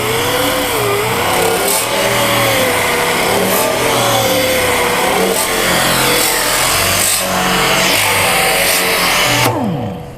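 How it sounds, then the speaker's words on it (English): An angle grinder works thin automotive sheet metal for body repair, heeled in against a pinch weld, giving a loud, continuous whine and grinding rasp, up close and steady until it stops at the end. "like heel the grinder in."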